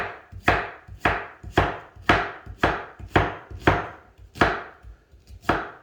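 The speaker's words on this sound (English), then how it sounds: "I'm gonna chop up some onions and I'll be right back with you." Onions chopped with a kitchen knife on a board: about nine sharp, evenly spaced cuts in a steady rhythm, close and clear, with no talking.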